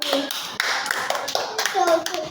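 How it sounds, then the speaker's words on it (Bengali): A class of second-grade children claps hands in a classroom in a rapid, uneven burst of many close claps. Children's voices chatter throughout. "একটা হাততালি দাও"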